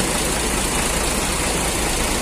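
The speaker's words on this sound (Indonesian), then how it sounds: "mesin Hino RK8 R260 non air sus" A Hino RK8 R260 bus engine on a non-air-suspension chassis with a Laksana SR1 body idles in a steady, close, even drone with no speech.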